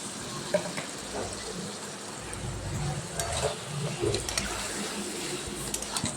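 Chicken pieces fry in spiced oil as they are stirred, giving a steady broadband sizzle with scattered scraping spoon strokes, moderately close and continuous throughout, with no talking.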